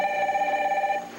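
A telephone rings with a single steady electronic trill held for about a second before cutting off, heard close and clear with no talking.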